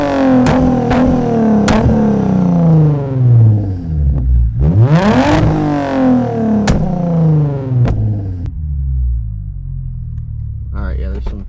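Car exhaust fitted with an MForce flame tune revving right at the tailpipe, loud and close: repeated sharp blips and a few rising-falling rev sweeps over a deep rumbling idle, with faint voices in the background.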